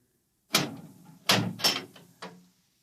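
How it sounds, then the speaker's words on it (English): A door opening in a radio drama scene, heard as a sharp handle-and-latch click followed by creaking and a final knock, four close distinct bursts over about two seconds with no talk. "Open the door."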